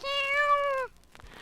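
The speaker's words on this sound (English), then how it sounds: "Herman, the cat" Herman the cat gives a single clear, drawn-out meow, close and alone, fading into quiet.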